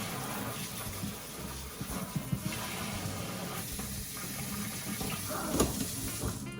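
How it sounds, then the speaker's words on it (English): Tap water runs steadily into a kitchen sink as items are rinsed, a continuous splashing hiss with occasional clunks and knocks of things being handled under the stream. "let me rinse some things out"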